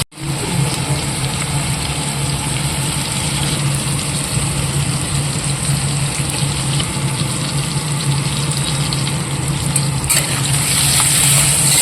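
Water is poured into vegetables cooking in a pan for a breakfast tiffin. A loud, close, steady rushing hiss runs unbroken throughout.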